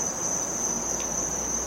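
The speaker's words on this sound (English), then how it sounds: "If you go out and you sit outside and you start hearing crickets" Crickets chirp outdoors in a steady, continuous high trill that holds at an even level throughout, with no voices.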